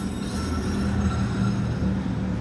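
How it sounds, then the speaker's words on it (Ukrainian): A Kyiv-type tram rolls past at night in Prague, a steady rumbling rail noise with faint wheel squeal, fairly distant and without speech. "Блін, так це київські трамваї."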